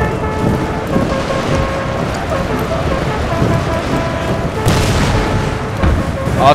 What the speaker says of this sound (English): Artillery now firing like canister shots into all of this infantry here, doing some serious damage.